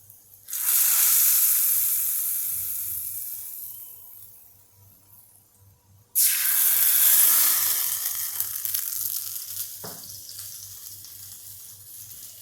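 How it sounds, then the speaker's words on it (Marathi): Two loud bursts of sizzling as a hot asafoetida tempering hits tomato saar, each hissing sharply then fading, followed by a brief clink. "आता ही फोडणी आपण सारावर ओतणार आहोत"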